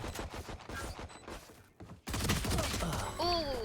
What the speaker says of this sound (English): We got lots of gunfire happening right around the bomb.